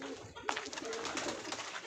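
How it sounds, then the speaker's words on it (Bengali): Several pigeons in a loft give low, rolling coos close at hand, overlapping in a steady murmur with a brief rustle partway through. "এখানে রয়েছে কিছু পায়রা"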